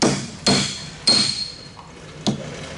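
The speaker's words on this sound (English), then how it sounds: "If you have a brass hammer," A brass hammer taps a bearing into place on a 1972 International Harvester Cub tractor, four sharp metallic strikes spaced unevenly, close and fairly loud, each ringing briefly before dying away.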